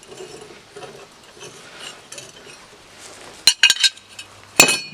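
Metal angle pieces on a boat stand, meant to carry a plywood pad, pivoting and swiveling, giving a few sharp metallic clanks and rattles near the end after faint handling noise, with no talk.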